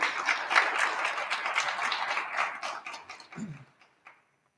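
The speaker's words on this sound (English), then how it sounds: "give her a round of applause" Audience at an economy talk clapping in a steady round of applause that fades out over the last second.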